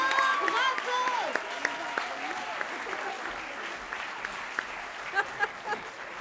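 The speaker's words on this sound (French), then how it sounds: "On peut les applaudir bien fort." At a closing awards ceremony, a crowd claps steadily and strongly throughout while a voice speaks over the applause, with a few sharper individual claps near the end.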